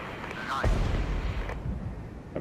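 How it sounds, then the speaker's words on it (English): DPICM artillery strike in the Regiments strategy game, a deep booming impact followed by rumbling low-end bursts, moderately loud, with a voice speaking over it. "I'm gonna hit that with the artillery DPICM."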